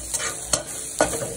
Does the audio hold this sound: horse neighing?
no